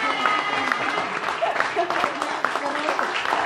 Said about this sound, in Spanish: ellos también merecen un aplauso